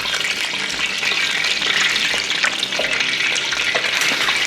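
Homemade chicken nuggets frying in hot oil, a steady, dense crackling sizzle with scattered pops that continues unbroken throughout, fairly loud and close.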